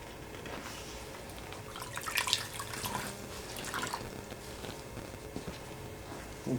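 Water dabbed onto a patient's skin to clean it before an ECG gives soft, close wet dripping and trickling, quiet and uneven, with a few slightly louder splashes midway and no talking.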